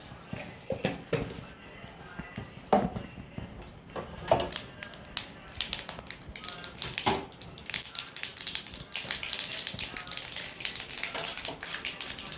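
Mustard seeds pop in hot oil with dried red chili, shallots and curry leaves, irregular sharp crackles and snaps building into a thicker, continuous sizzle toward the end.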